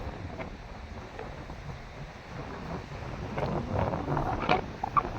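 Wind buffets the microphone on a seashore with gusty rumbling, growing stronger toward the end, with a faint wash of surf behind it.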